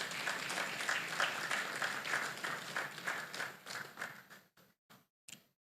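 An audience applauds a guest introduced at a student meetup with animation professionals; steady clapping tapers off and finishes with a few separate, isolated claps.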